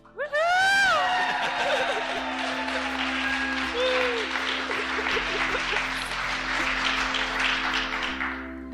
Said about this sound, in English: There's a place for a cheer.